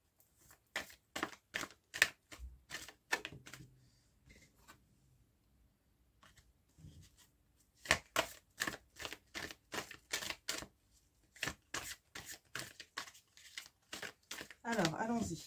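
Tarot cards being shuffled by hand, rapid crisp riffling bursts in quick rhythmic runs with a pause midway, close and fairly faint, then a few soft card slides at the end.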